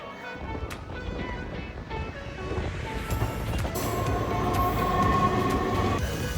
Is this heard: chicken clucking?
no